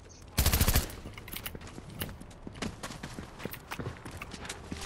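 Gunfire in the Fortnite video game as a player is shot out of the sky: a loud burst of rapid shots opens, followed by scattered lighter shots and clicks at mid distance.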